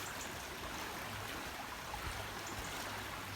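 Deep, fast-flowing stream water on a flooding island rushes steadily, a dense continuous churning roar with no breaks, heard close and alone.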